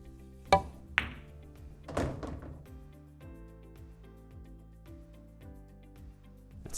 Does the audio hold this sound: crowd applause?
no